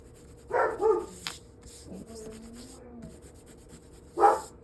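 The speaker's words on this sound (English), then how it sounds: "Guard dog." A guard dog gives a few short barks and whimpers, mid-distance, with quiet gaps between bursts and no talk.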